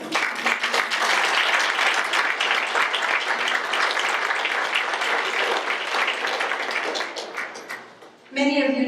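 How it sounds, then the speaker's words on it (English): A seated audience gives a sustained round of applause, with steady dense clapping that fades near the end before a voice begins speaking. "give a round of applause for the person who made much of what Miriam does possible"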